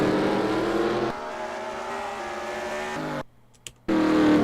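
Race cars roar around an oval track in a sim racing game, a steady engine drone with shifting pitch, a brief near-silent gap, then the engines surge back loud.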